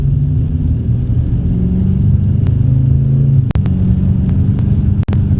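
A Dodge Challenger R/T with a K&N drop-in air filter idles while warming up, a loud, steady low rumble close by with a slight lift midway and a couple of brief clicks.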